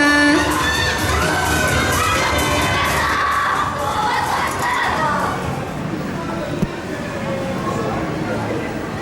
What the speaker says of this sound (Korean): 사진 촬영만 진행을 했는데도 여러분들 너무 많이 응원해주시고 함성 외쳐주셔서 분위기가 후끈 달아오른 것 같습니다